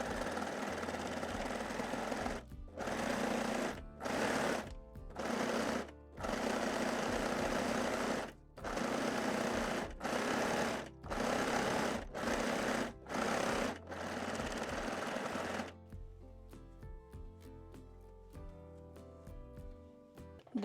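Sewing machine stitching underbust elastic and strap loops onto a bralette, running in loud bursts separated by short pauses, then a slower, lighter stretch of stitching at the end, with no talking.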